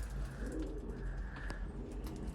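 A pigeon coos softly in low, repeated rolling tones, close by, over a steady background hum.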